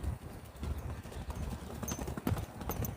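A pony's hooves clip-clop during a training session on the ground, a quick, light and fairly close rhythm of hoofbeats with no voices.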